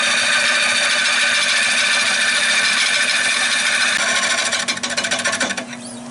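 Gouge cutting an oak bowl blank with branch crotches and crisscrossing hard grain on a wood lathe: a loud, steady whining cut with a constant motor hum, turning rougher and bouncier toward the end.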